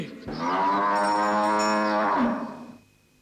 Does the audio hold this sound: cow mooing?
yes